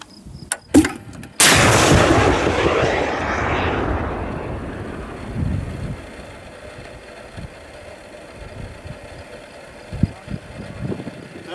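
A MILAN anti-tank missile fired live by the Wachbataillon: a couple of sharp clicks, then a loud, close launch blast that becomes a rushing roar, fades over a few seconds and leaves faint distant rumbles.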